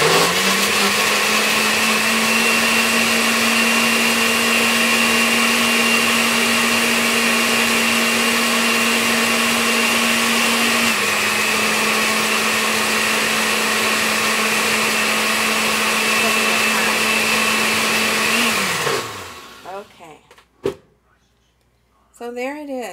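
A blender grinds a drink with a loud, steady whir that shifts pitch slightly midway, then winds down and stops, followed by a few clunks and brief talk.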